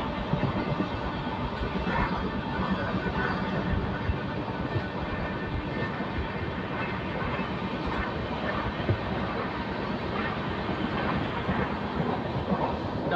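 A train overtakes a freight train at Patas railway station, giving a loud, steady, close roar and rumble with continuous wheel clatter that lasts throughout.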